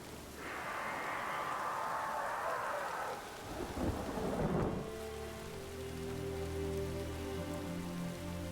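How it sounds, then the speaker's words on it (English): Rain pours steadily in The Witcher 3: Wild Hunt, with a deep rolling thunderclap swelling in the middle before the downpour continues as a softer patter alongside a low humming tone. "Let's wait for this fucking rain to piss off."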